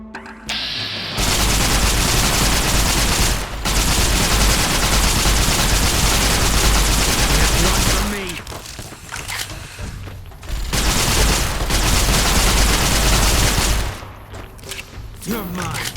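Heavy gunfire from a big gun in the video game Fallout: New Vegas, with long sustained dense bursts of rapid shots that pause briefly and resume, loud and continuous, while voices talk during the gaps.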